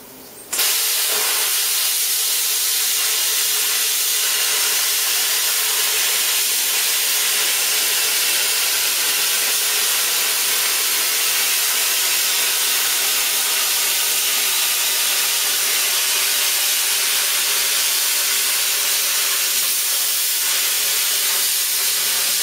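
Plasma cutter slicing a straight line through sheet metal, a steady loud hiss with a harsh airy roar that holds continuously from start to finish after a brief sharp opening burst.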